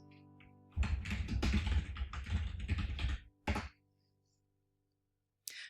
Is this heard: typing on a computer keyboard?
yes